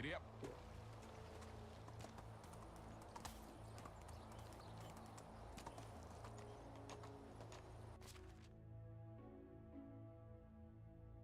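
Horse hooves in the game Medieval Dynasty: a steady, rhythmic clip-clop of a ridden horse over a low continuous background, loud and close, ending abruptly near the close as the sound thins out.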